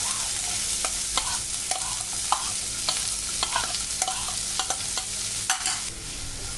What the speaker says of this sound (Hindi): मैं इसको हल्का सा ही भूनूंगी, हल्का गुलाबी होने तक